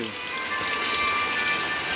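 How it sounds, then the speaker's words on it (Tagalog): Heavy rain pours in a steady, dense hiss that stays even throughout, with a faint tonal hum underneath. "Oh, lakas ang ulan."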